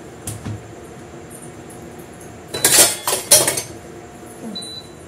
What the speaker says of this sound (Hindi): बर्तन तब तक रख लेते हो